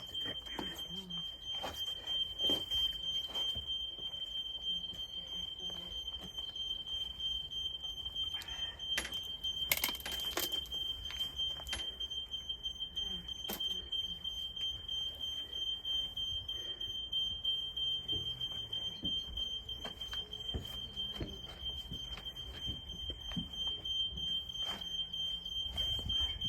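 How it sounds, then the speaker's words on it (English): A household smoke detector sounds a continuous, piercing high tone throughout. Faint clatter, knocks and occasional low voices come from a room under renovation. "smoke detector"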